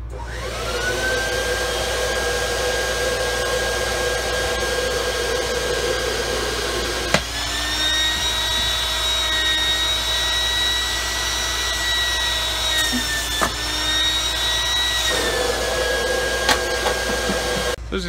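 Vacuum suction running on a dragknife vacuum box for a Tormach machine, a loud constant whining drone with a high tonal hum that shifts pitch midway and back again as the seal changes.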